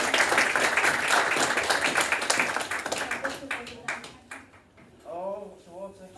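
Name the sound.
audience applause and clapping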